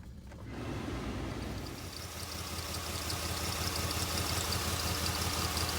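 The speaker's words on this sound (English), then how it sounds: "So I may just fix that exhaust leak first, just to eliminate that noise" A 2002 Jeep Liberty engine idles steadily with a low, rough, ticking exhaust rumble from an exhaust leak, growing slightly louder, with no voices.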